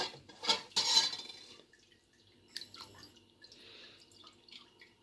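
Homemade grape juice drips and trickles through a fine strainer, with a couple of louder clinks of a utensil near the start, then sparse, quiet drops and faint splashes.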